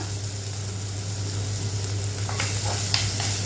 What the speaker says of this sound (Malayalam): പച്ചച്ചുവയൊക്കെ മാറുന്നത് വരെ നമുക്ക് വഴറ്റിയെടുക്കാം.